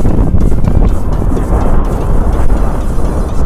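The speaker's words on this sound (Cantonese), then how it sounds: "我今日唔知點解咁大風嘅" Strong wind buffets the microphone in a constant loud roar on a mountain ridge near Tai Lo Tin in Hong Kong, gusting throughout with no voices.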